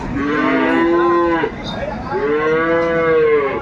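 A dairy cow at the Aftabganj cattle market in Dinajpur lets out two long, loud, close moos, each drawn out for over a second, with a brief pause between them.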